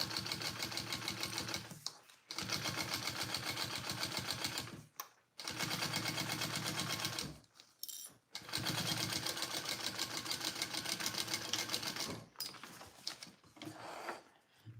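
Sewing machine stitching a seam on a Karvi mini backpack, long runs of fast, steady mechanical whirring broken by several brief pauses, close and loud with no talking.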